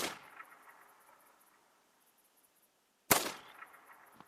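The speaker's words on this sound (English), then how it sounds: "so we're going to take a shot with that." A single sharp crack from a Virant .22LR rifle in a hunting game, loud and abrupt with a brief echoing tail, following a quiet stretch of faint ambient outdoor tones.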